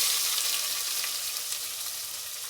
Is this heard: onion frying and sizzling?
yes